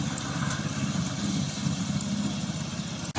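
The gasoline engine of a VTLM800 crawler RC lawn mower, which has an oil pump for forced lubrication, runs with a steady, rough drone and a low rumble. The sound is even and unbroken, with no voices.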